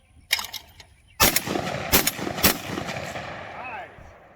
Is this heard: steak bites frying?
no